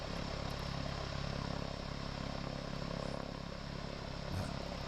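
A DR 400 light aircraft's piston engine idling just after start-up, a steady loud droning rumble heard from inside the cabin, constant with faint clatter.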